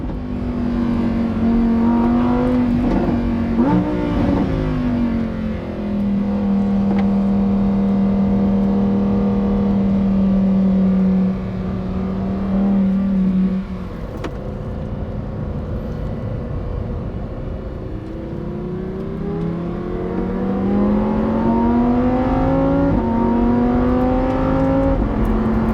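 Lamborghini Huracan STO with a 5.2-litre naturally aspirated V10, close and loud, the engine note climbing and dropping through several revs and shifts with a steady drone in between.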